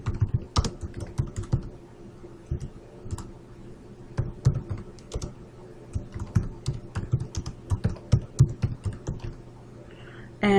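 Someone types on a computer keyboard in bursts of close, crisp keystrokes with short pauses, as if entering a phrase into a software field, in a quiet room.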